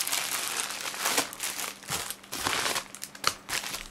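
A plastic parcel bag crinkles loudly and continuously as it is opened and emptied, with bursts of rustling and crackling close to the listener.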